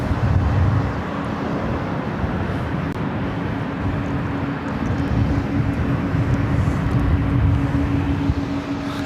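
An Asiana Airlines Airbus A380 taking off from LAX runway 25 left, giving a steady, loud, broad jet roar with a deep rumble that holds for several seconds, with no talking.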